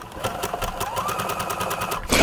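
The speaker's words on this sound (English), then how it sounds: "as I stitch, it's simply going to be zigzagged over the edge" Sewing machine zigzag stitching over a cord edge, a close, fast rhythmic chatter of needle strokes running continuously and alone.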